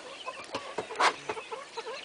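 Soft, repeated clucks from Silkie chickens, a rooster and hen nearby, with one louder squawk in the middle.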